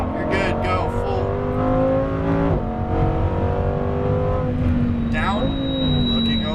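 A Lamborghini Huracan Performante on a racetrack revs hard as it accelerates at full power, engine pitch climbing through gear changes, while a person talks over it.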